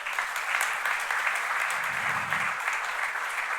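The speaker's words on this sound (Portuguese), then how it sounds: "Dá uma salva de palmas ao Senhor." Brazilian church congregation giving a round of applause to the Lord during a sermon, sustained dense clapping throughout, fairly loud and even, with a faint low murmur underneath.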